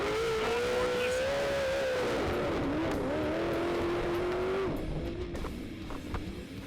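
Onboard sound from Kevin Probst's self-built race truck: a loud, sustained engine drone rising and falling through gear changes and throttle, with tire noise, close and unbroken.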